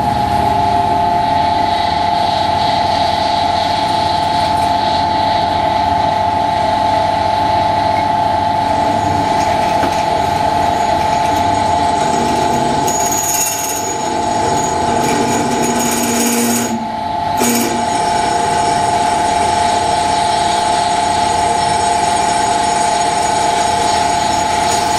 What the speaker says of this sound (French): Je perce à 10, et puis bon, je passe d'abord avec un avant-trou de 6